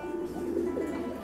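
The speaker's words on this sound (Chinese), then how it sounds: "咕咕乱叫，感觉十几岁的鸽子还是挺旺的" Pigeons cooing inside a loft, a low throaty warbling call rising and falling over about a second, fairly close and moderately quiet, with no talking.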